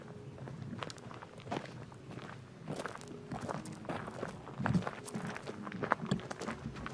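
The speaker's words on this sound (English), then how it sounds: "Even the footsteps sound like a video game" Footsteps crunch and scuff across the ground in an abandoned ghost town, an uneven walking rhythm of fairly quiet close steps with no talking.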